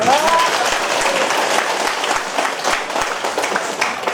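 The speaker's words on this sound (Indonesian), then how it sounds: "Tepuk tangan ya." Applause from an audience at a political campaign gathering at the Koramil complex in Ruteng, Manggarai: dense, steady clapping that is loud and close, running without pause through the whole stretch.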